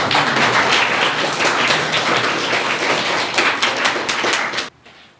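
Audience applause at an award ceremony honoring students who placed in a religious-history exam, dense steady clapping filling the room for several seconds before cutting off abruptly.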